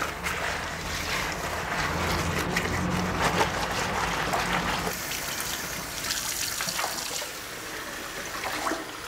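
Jellyfish being rinsed under running water from a tap, a steady broadband gushing and splashing that runs the whole time with a slight change partway through, close and fairly loud, with no talking.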